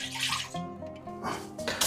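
Milk pours into lukewarm water in bursts of splashing and trickling, close by, with short pauses between pours.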